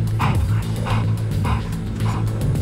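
German special forces service dog barking on deployment, a close series of loud, yelping barks at a steady rhythm over low rumbling background noise.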